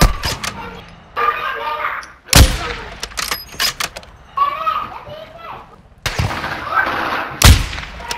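Loud, sharp sniper rifle cracks in the DMZ shooter ring out twice, widely spaced, over busy game noise and squad chatter.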